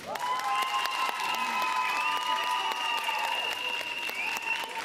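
Audience applause at a children's folk music festival, a dense and steady roar of clapping with a sustained tone running beneath it, lasting throughout without talk.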